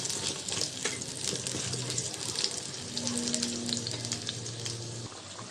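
Potato pieces coated in turmeric fry in a pan during beef biryani cooking, a close, crackling sizzle with scattered spatters and stirring, under faint background tonal hum.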